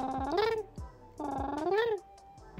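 A person imitates a cat's chirping, trilling call, producing two rising-and-falling rolled vocal bursts, close and clear, with short pauses between.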